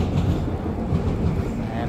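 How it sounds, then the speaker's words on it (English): Trains rumble past near the harbor in Vancouver, a continuous low, dense roar with faint rhythmic clatter heard from nearby outdoors, steady throughout. "And what you hear behind me are trains."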